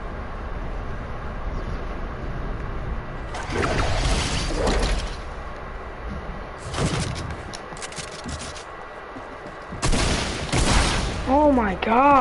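Sniper rifle shots in a video game ring out as a few loud, sharp bursts spread across the scene, separated by quieter stretches of game ambience, with a player's voice speaking at times.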